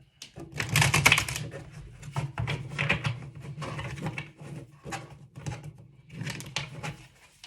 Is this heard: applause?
no